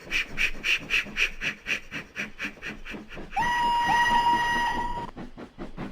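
A small steam engine pulling two coaches on a branch line chuffs in a quick, even rhythm, then a sustained whistle blows for over a second before cutting off, with no talk.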